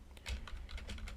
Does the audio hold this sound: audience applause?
no